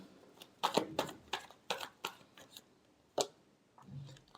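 Tarot cards being shuffled by hand: a series of quick, crisp riffling snaps and flutters, some bunched close together and others spaced apart, heard nearby and alone in a quiet room.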